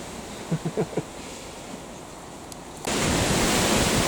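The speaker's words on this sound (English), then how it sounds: "Man, listen to that wind." Strong wind roars suddenly into a loud, steady rush across the microphone after a quieter stretch with a few faint taps.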